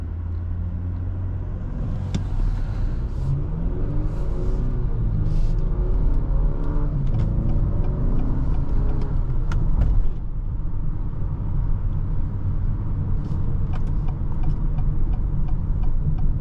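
A 2025 Acura RDX Tech with super handling all-wheel drive accelerates on the road, a steady loud engine and road rumble inside the cabin with light ticking, continuous throughout and no voices.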